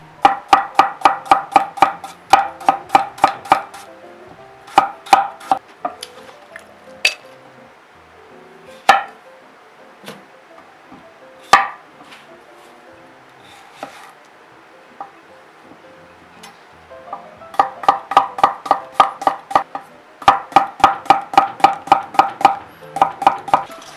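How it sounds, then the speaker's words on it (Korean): A knife chops lettuce, green onion, cucumber, onion and carrot on a cutting board in fast, even bursts of crisp, close taps. Slower, sparser strikes and quiet pauses come between the bursts. "야채는 드시기 편한 크기로 적당히 잘라주시면 되겠습니다."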